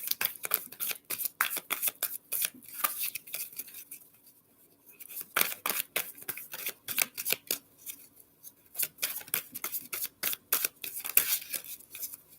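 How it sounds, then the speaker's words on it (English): A deck of cards is shuffled by hand indoors, with a quiet, rapid series of papery riffles and slaps in uneven bursts and a short pause near the middle. "Let's start shuffling."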